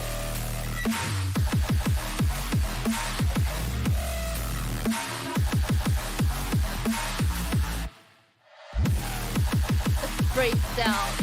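Electronic drop from a Halloween song: loud, dense pounding kicks with sweeping synth stabs and hissy texture, briefly cutting to near silence before slamming back in. No voices.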